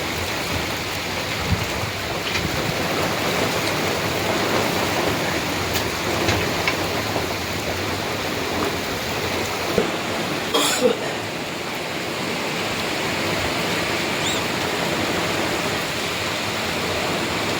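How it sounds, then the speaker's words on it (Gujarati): Heavy monsoon rain pours down steadily on a cotton farm, a continuous loud roar of drops broken once by a brief sharp crackle near the middle. "કેવો વરસાદ પડે"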